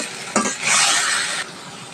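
Green chilies and spices stir-fried in a pan for a green banana curry: a short burst of sizzling with a scrape of stirring, close and loud, with no talk.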